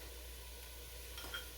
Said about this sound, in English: you can probably hear it sizzling